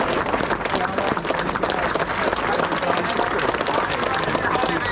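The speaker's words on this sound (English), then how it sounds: "can we have a massive round of applause?" Outdoor applause from the crowd at Preston Park parkrun: a continuous, lively patter of many people clapping in the open air, with voices mixed in throughout.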